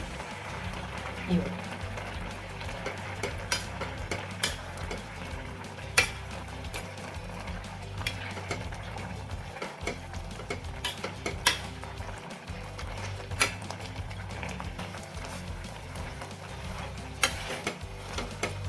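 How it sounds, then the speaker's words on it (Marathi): Carrot halwa mashed in a pot with a pav bhaji masher, repeated soft metallic thuds and scrapes in an uneven rhythm, close by, while a person talks throughout. "हे मॅश करत करत शिजून घ्यायचं आहे तर आता वेळेस आपण असं हे असं पावभाजीचं मॅशर असतं याच्याने करू शकतो"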